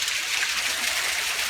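Rushing water from a small waterfall in Napa Valley spilling into swimming holes and a pond, a steady bright hiss of falling water heard alone, moderately close and unchanging.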